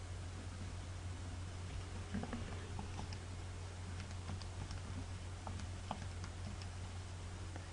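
Calculator keys are tapped as numbers go in, making faint, scattered little clicks over a steady low hum.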